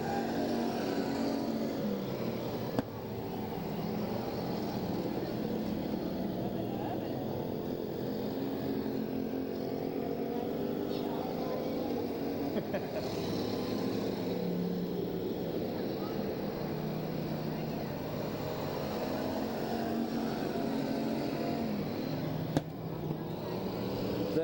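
Stock car engines roar continuously around a track at a 1996 points race in Porterville, California, a loud sustained droning rumble from several cars at once.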